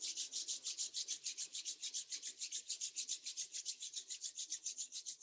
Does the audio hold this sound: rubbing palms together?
yes